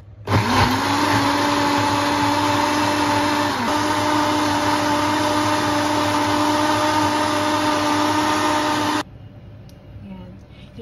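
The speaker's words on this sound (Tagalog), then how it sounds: "So, i-blend ko na po siya gamit ang blender." A blender whirs loudly and steadily for about nine seconds blending cooked tomatoes, then cuts off, leaving a quieter room tone.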